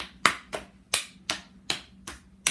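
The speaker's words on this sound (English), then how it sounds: "The next test is just to do the hand clapping" One person's hands clap in a slow, steady series during a neurological coordination test, seven sharp, close claps at roughly even intervals with quiet gaps between them and no talking.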